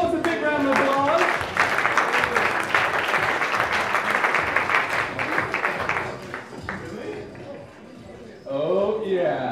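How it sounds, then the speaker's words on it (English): An audience at a hypnotist's stage show breaks into a big round of applause, dense and loud for several seconds before fading, with someone speaking at the start and end. "Give these folks a big round of applause."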